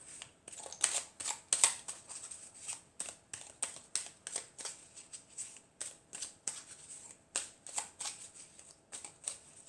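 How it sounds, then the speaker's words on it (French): A deck of oracle cards is cut and shuffled by hand, a steady run of soft, crisp riffling flicks repeating close and clear with no talk over it. "Alors je vais couper et je vais prendre cette carte."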